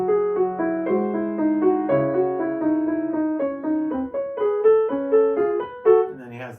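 Bach fugue from the Well-Tempered Clavier, third theme heard in context on keyboard: several voices interweave, with running sixteenth-note figures over sustained lower lines, clear and close, without talk.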